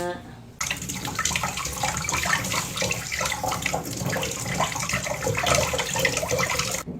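Tap water runs steadily and loudly into a sink as an apple is rinsed under the stream, with no pauses.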